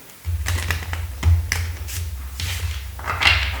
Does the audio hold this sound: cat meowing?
no